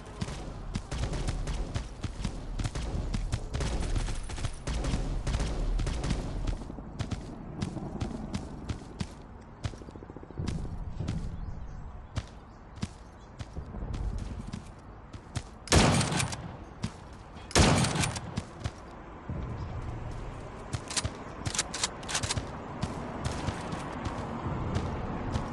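Bursts of video game gunfire from the shooter Guns of Boom, rapid automatic volleys and single shots in dense clusters with a few louder blasts, heard over running footsteps.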